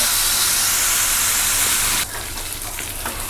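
Ivy gourd (dondakaya) pieces frying in a pan, a loud steady hiss and sizzle that drops slightly partway through, then continues with faint crackles.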